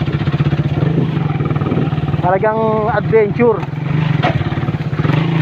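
Motorcycle engine revving on a steep uphill trail ride, loud and continuous throughout with rising and falling pitch, while someone talks over it.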